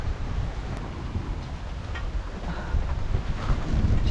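Strong wind buffets a sailboat crossing flat water between Sicily and Sardinia. A steady, dense roar and rumble with gusty swells runs throughout, with no talking.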